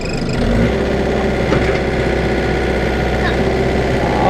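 An excavator engine starts and then idles as a steady, loud, close diesel rumble with a mechanical rattle, continuous from the first moment to the end.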